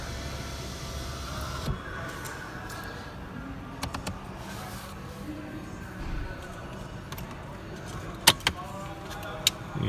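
Rear power window of a 2018 Volkswagen T-Roc Sport 4Motion lowering, a quiet electric motor whir inside the cabin, faint beneath a few clicks and sharp knocks near the end.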